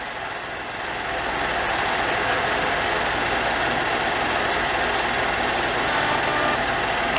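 A car engine during a battery tester's cranking test, rising after about a second into a loud, steady, even engine drone that holds to the end.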